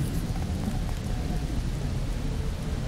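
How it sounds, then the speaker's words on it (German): Rain in the survival game Mr Prepper, a dense, constant hiss with a deep rumbling low end like a downpour with thunder, steady and moderately loud, with no talk. "Also scheint die Sonne und es regnet."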